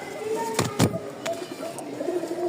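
Pigeons in a loft coo softly in low, rounded calls under a sharp flutter or knock, with steady background hum.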